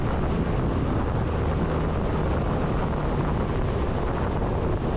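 Steady, dense wind roar buffets the microphone while riding a Suzuki Burgman motorcycle on a highway, loud and unbroken with no talking.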